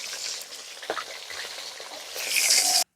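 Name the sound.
fish frying in a pan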